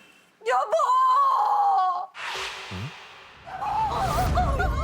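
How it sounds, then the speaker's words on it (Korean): A woman's long, piercing scream rings out, followed by rushing noise and an anguished, wailing voice in a dramatised horror scene. "찢어지는 비명이 들려왔어요."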